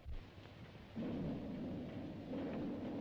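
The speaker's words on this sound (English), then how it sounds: "There's that thunder sound." Thunder in an old Phantom Empire film serial rolls as a low, faint rumble that swells after a second and holds steady, with a slight surge near the end.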